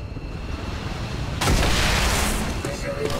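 Rapid-fire gunshots in XCOM 2 arrive as a sudden loud blast followed by a dense crackling roar that tails off slowly, with low voices faint beneath.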